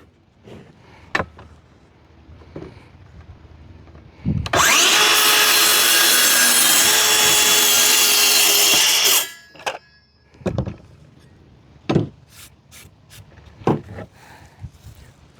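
A circular saw fitted with a DEWALT framing blade cutting through a wooden board, one loud sustained whine of about five seconds, close by, with quieter knocks and handling before and after.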